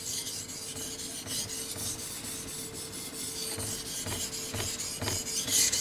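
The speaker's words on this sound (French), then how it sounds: "je passerai le couteau uniquement sur la pierre de cuticule" A knife blade strokes rhythmically across a wet Belgian coticule whetstone, a steady close rasping scrape repeating about twice a second, growing slightly louder toward the end, with no voices.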